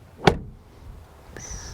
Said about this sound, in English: Now door closing sound.